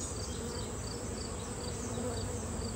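Honeybees swarm around an open beehive during queen-rearing work, a dense continuous buzzing hum that stays close and even throughout with no talking.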